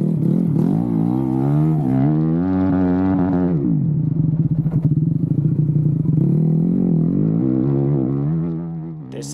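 A flat track motorcycle blasts down a wooded straightaway, its engine loud and close as it revs hard and climbs through the gears with clear shift breaks, then settles into a steady high drone before easing off.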